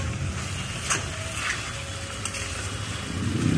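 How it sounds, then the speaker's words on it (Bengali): Food sautés in a covered pan with water added, giving a steady low sizzle and bubbling hiss with a few faint scraping clinks, the simmer rising slightly toward the end. "জল দিয়ে দিয়ে ঢাকা দিয়ে দিয়ে কষাচ্ছি"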